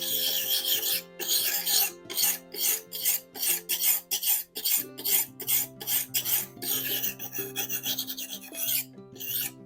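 A metal file worked across a blade bevel held in a vise, rhythmic rasping strokes in quick succession with brief pauses, close and steady, with a faint tonal hum underneath.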